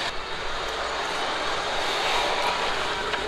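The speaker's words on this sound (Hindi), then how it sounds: "ये हो गया एसी ऑन" Car air conditioner running in a 2003 Suzuki Alto, heard inside the cabin as a steady broadband whoosh of blower air and a faint engine hum, continuous and fairly loud, with no talking.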